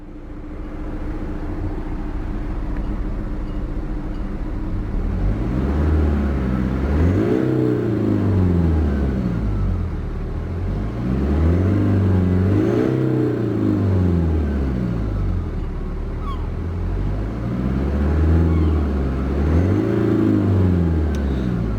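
A 2015 BMW 420d M Sport Convertible diesel engine idles steadily, then revs up and falls back in three repeated swells, loud and close with no talking.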